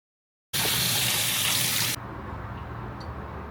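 Running water gushes loudly over sprayed leaf samples being rinsed, a steady broad splash that cuts off abruptly into a quieter, softer trickle.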